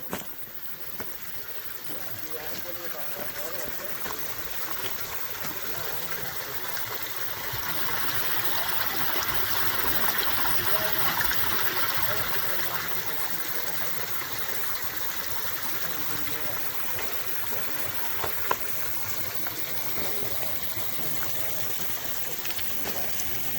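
Pine Creek in the Rainbow Mountains of Nevada, flowing steadily nearby as a continuous broadband rush of water that swells slightly midway, with a couple of faint knocks over it.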